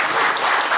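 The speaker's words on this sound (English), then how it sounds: "Okay, then clap for Microsoft." Audience applause at a DotNet Bangalore developer meetup, a steady dense wash of many hands clapping together throughout, fairly loud and without talk.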